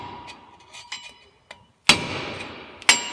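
A regular screwdriver prises small metal rotor keepers off a Chevy GMC front wheel hub, giving a few light taps and scrapes followed by two sharp, close metallic clanks, with no talk.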